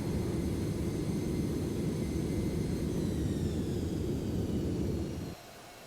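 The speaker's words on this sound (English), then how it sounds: "runway 8, clear for takeoff" A DC-8 jet taking off in the Prepar3D flight simulator gives a loud, sustained low engine roar with a rising whine above it that holds steady and then drops off sharply near the end, with no talk.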